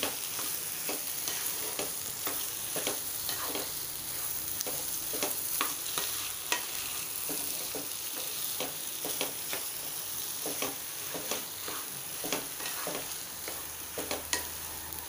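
Onions for paneer bhurji frying in a pan over lowered heat, a constant soft sizzle broken by frequent scraping strokes of a spatula stirring, close and unaccompanied by talk.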